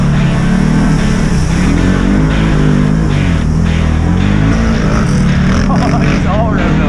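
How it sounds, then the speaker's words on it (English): A Can-Am Outlander XTP 1000R ATV engine roars loudly and continuously on a trail ride, revving with rising and falling pitch, with voices now and then over the engine noise. "It's revved up now."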